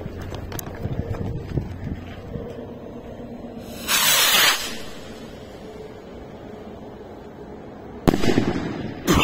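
A powerful Allevi Giove firework rocket, a legal New Year's type, launches outdoors with a loud whooshing hiss lasting under a second, then a second sharp burst near the end, over a low background murmur and wind.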